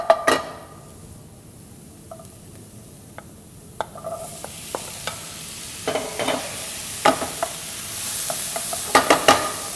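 Garlic sautés in a pan for tomatillo salsa, giving a soft steady sizzle that builds louder, broken by repeated sharp clicks and scrapes of a utensil against the pan.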